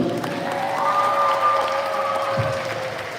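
Audience clapping for a performing group called Kwiatki Świętego Franciszka at a live event; a steady, full round of applause with faint crowd murmur underneath.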